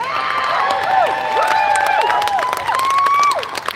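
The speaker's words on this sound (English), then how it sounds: "Everybody give a big round of applause for Hunter." Crowd at an outdoor Trans Visibility Day rally at the Texas Capitol applauding and cheering, with sustained clapping beneath rising and falling whoops and shouted cheers, loud and continuous.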